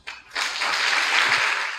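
A congregation at an Assembleia de Deus Nova Jerusalém service bursts into applause to welcome the pastor: a brief clap or two, then a sudden full wave of clapping that holds steady.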